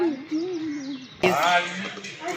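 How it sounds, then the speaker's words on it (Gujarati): Bird calls sound in the open at the Sakkarbaug Zoo in Junagadh, a steady warbling note at first, then a person talks over faint chirps. "ઉપર એ પણ પંખી છૂટા હે"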